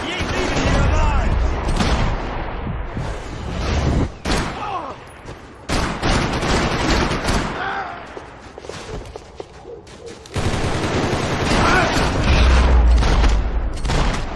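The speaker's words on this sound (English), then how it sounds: "Gunfire over Hoboken." Gunfire in the video game Max Payne 3 crackles in rapid bursts and heavy booms, near and loud, with pauses between volleys and voices shouting under the shooting.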